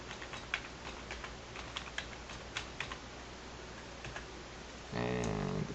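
Password keys tapped out on a computer keyboard during domain controller login, a quick run of light uneven clicks with short pauses, ending in a sudden burst of louder, denser noise.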